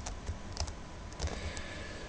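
Keys on a computer keyboard tapped in a few quick, uneven clicks, used to steer a shape in a Java applet, close and fairly quiet over a low steady room hum.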